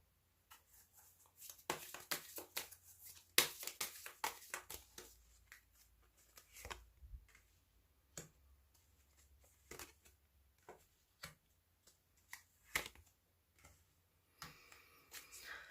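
Tarot-style cards shuffled and drawn for a reading on marriage: soft, close riffling and flicking in scattered bursts with quiet pauses between, no voice over it.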